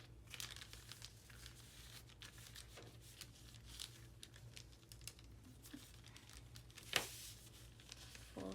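Paper crinkles and creases in soft, scattered handling sounds as a sheet is folded into a mini junk-journal ephemera booklet, with a sharper crumple late on, faint and close with no talking.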